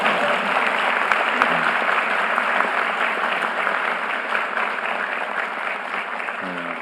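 Sustained applause from an audience at a town hall meeting in Jeju, steady dense clapping throughout with no pauses, fairly loud and even, with a brief voice near the end.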